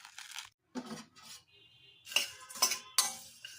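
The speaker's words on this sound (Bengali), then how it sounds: "এরকম করে আমি ঝুড়ি ভাজাটা একটু নেড়ে নিলাম, গরম গরম।" Fried jhuri bhaja snack being stirred, with bursts of dry crunchy rustling and several bright metallic clinks of a utensil against the container, close and fairly quiet.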